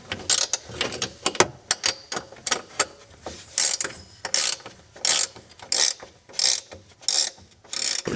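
A ratchet wrench with a 14 mm socket works a coilover mount bolt on an S13 rear suspension, clicking in quick bursts close up, then settling into a steady rhythm of short ratcheting strokes.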